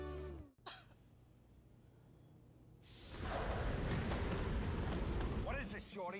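A person gives a short, harsh cough near the start, followed by quiet and then a loud, rumbling burst of noise, with voices heard at the beginning and end.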